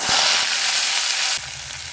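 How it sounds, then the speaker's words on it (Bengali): Bitter gourd pieces sizzle and fry in hot oil with black cumin, a dense continuous crackle close by that softens slightly near the end. "করলাটা ভেজে নেব"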